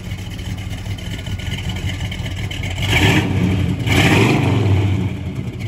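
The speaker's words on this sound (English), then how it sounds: "It's got that nice muscle car cackle to it." A 1968 Buick GS 400 with an aggressive cam runs loud and throaty with a choppy, lumpy idle, swelling louder in the middle and near the end, like a strong exhaust burble.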